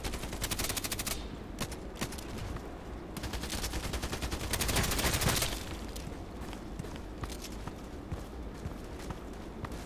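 Gunfire in the Contract Wars video game while aiming for headshots, with rapid automatic bursts and single shots cracking repeatedly over a steady background, dense volleys across the whole stretch and a heavier burst near the middle.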